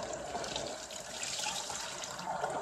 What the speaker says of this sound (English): I rinse my rice about four or five times.